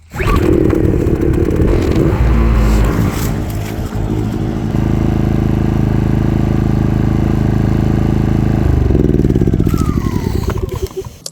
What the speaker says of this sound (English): I've had to run my generator to top off my batteries.